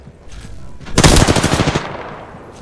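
Automatic weapon fire in the battle royale game Apex Legends, a loud rapid burst of shots with a dense rattling rhythm that then decays, heard alone without voices.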